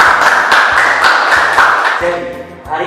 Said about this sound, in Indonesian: beri tepuk tangan buat Mas Ritonya